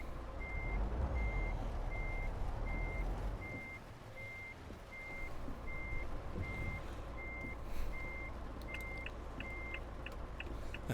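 A truck's reversing alarm in Euro Truck Simulator 2 beeps evenly about every half second over a low diesel engine rumble, the beeps turning faster and doubled near the end as other game sounds chime in.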